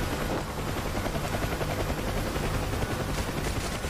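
Side-door machine guns fire from a UH-1H Huey helicopter in the DCS World combat flight simulator, steady and loud over the continuous drone of the rotor and engine, with no talking.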